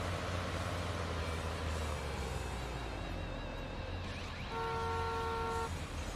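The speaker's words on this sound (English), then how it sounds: "I can hear this bus a little better than the last one." A school bus in Bus Simulator 21 has a steady, loud, low diesel engine rumble that runs throughout, with a brief horn toot near the end.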